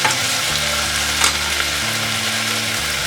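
Tomatoes frying in a pan, a loud, dense, continuous sizzle close up with a faint low hum underneath and no talk.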